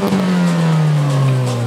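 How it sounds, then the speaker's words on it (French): A tuned Opel car engine revs loudly and close by, holding a steady, slightly falling drone for under two seconds with no one speaking. "on va aller voir si les voitures font du bruit"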